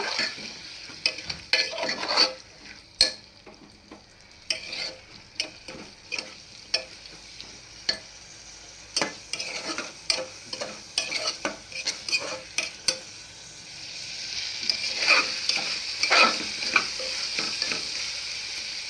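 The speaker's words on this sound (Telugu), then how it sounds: "ఇప్పుడు కొంచెం పెరుగు పెరిగి వేసి బాగా కలదిప్పాలా పెరుగు కూడా కొంచెం పచ్చి వాసన పోయేదాకా వేయించుకోవాలా" Yogurt stirred and fried in a pan for veg biryani: rhythmic scraping and clinking of a spoon against the pan over a low sizzle, then a stronger sizzle near the end, close and without speech.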